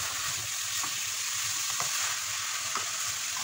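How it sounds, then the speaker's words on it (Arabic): Ingredients frying in a pan give a continuous soft sizzle, with light, irregular stirring taps and scrapes spaced through it. "نخليهم حتى يتشحروا شويه."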